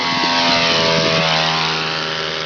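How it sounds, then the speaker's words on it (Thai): An ultralight aircraft's propeller engine drones loudly and steadily during takeoff, its harmonic hum shifting in pitch about halfway through, with no voices. "เอาเครื่องบินไปตั้งลำใหม่เพื่อที่จะ เทคออฟขึ้นใหม่นะครับ"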